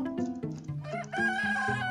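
Chickens in the Roblox game Totally Roblox Battle Simulator cluck and crow in a quick run of loud, close calls with short pauses between them.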